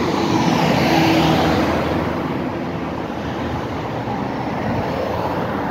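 Steady roar of heavy street traffic in Al Khobar, Saudi Arabia, many vehicles rushing past continuously at close to moderate distance, loud and broadband with a slight swell early on, no talking.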